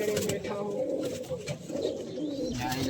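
Low, continuous cooing from pigeons kept at a friend's home, a dense murmur running throughout with people talking close by over it.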